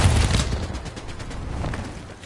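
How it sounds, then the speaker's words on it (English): A machine gun turret in Fortnite fires a fast, steady stream of shots at close range, loud at first and tapering slightly over a couple of seconds, with no talk over it. "But I get a machine gun turret on top"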